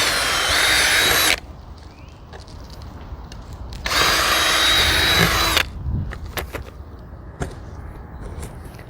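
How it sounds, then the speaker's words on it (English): Power drill boring into hard yard ground, two loud sustained whining bursts separated by quiet pauses, followed by scattered knocks and handling sounds, with no talking. "So let's try the drill."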